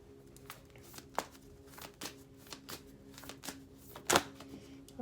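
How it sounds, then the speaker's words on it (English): Moonology Oracle deck cards shuffled close by: a quiet run of crisp papery flicks and riffles at an irregular pace, with one louder snapping burst near the end and no talking. "I'm going to be pulling from the Moonology Oracle deck."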